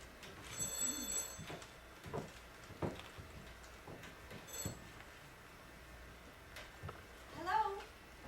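An old-fashioned telephone bell rings in short bursts in a quiet room, fairly faint and a little distant, with soft movement and rustling between the rings.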